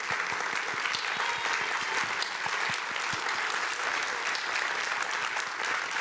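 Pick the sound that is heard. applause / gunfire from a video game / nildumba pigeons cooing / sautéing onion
applause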